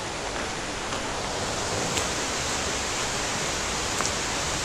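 Mouse Creek Falls on Big Creek in the Great Smoky Mountains, a steady, loud, broadband roar of falling water, constant and unbroken throughout, with no voices.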